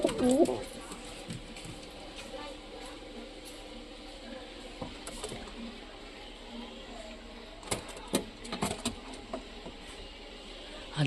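Pigeons coo softly over steady outdoor background noise near a pigeon loft with trees, with a few sharper knocks and rustles and faint voices in the background.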